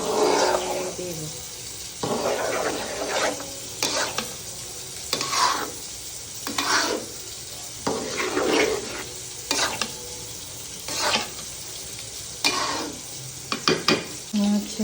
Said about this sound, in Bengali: এখন এই যে গরু মাংসগুলো সব আমি খিচুড়ির মধ্যে দিয়ে দিচ্ছি।